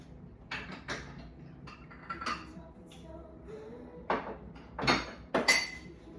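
Corelle dishes handled in a home kitchen while cooking: a scattering of light clinks and knocks, a few louder near the end, over a quiet background with faint talk.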